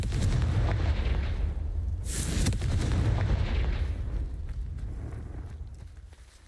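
A Confringo fire spell explodes in a Hogwarts video game, a loud blast that bursts out with a sharp crack and then rolls into a heavy, rumbling roar before slowly fading.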